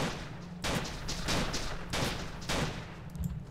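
Repeated sniper rifle shots in The Legend of Alfur game: about three loud, sharp cracks spaced roughly a second apart, each with a broad burst and short decay over a low steady hum.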